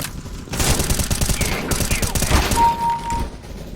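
Rapid bursts of M4 rifle fire in Counter-Strike, loud and close, with repeated automatic volleys crackling over most of the stretch and a brief whistle-like tone near the end.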